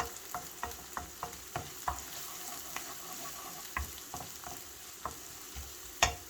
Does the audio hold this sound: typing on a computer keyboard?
no